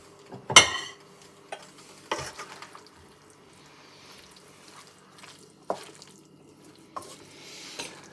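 Liver, bacon and onions are stirred in a pan, giving sparse scrapes and clacks of a utensil against the pan over a faint low sizzle, with quiet gaps between strokes.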